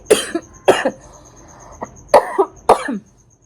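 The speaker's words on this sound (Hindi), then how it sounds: "मैं वीडियो बनाने बैठी तो पता नहीं क्यों खांसी उठे जा रही है" Four sharp, close coughs in two pairs, with a faint short sound between them and a steady high tone in the background.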